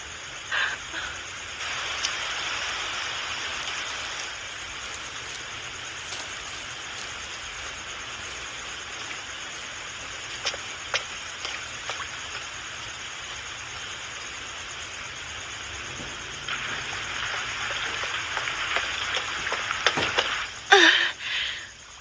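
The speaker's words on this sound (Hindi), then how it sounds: "फिर से बारिश शुरू हो गई है।" Steady rain falls for the whole stretch, an even hiss of drops that grows a little heavier toward the end, with a few brief knocks and rustles.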